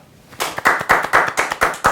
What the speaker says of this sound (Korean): 우리 박수로 한번 맞아보도록 하겠습니다